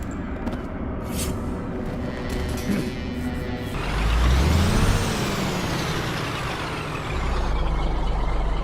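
Truck in the game Euro Truck Simulator 2 rumbles steadily as a sharp air-brake hiss bursts out mid-way, followed by continued engine drone, close and fairly loud with no talk.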